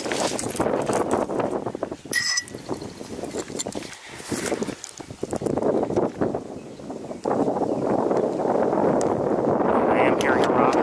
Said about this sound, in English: It's breezy up here, feels good, I have to say, but it's going to make for some noise